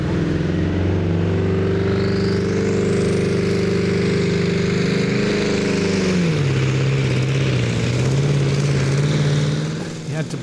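Pulling tractor at a Danish championship tractor pull in Herning, engine roaring steadily and loudly through the run before the pitch drops and recovers, with a commentator talking over it.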